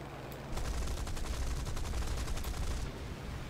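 Rapid automatic gunfire from the War Thunder video game rattles in one dense burst of about two and a half seconds, loud and close, with quieter game ambience before and after.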